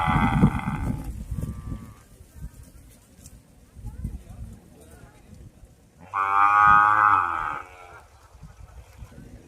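Native Kangayam-breed calves at a cattle market give two loud, drawn-out moos, one at the start and a longer one near the end, with market noise and voices around them.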